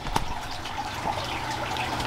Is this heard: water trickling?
yes